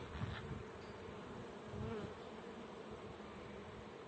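Honey bees drone in a steady, close buzz at a hive from a captured swarm, with the hum holding even throughout and swelling slightly at moments.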